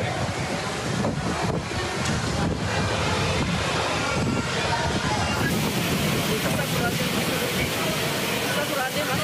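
Strong gusting wind in Bogor, West Java, roaring continuously with heavy buffeting on the microphone, loud and unbroken throughout.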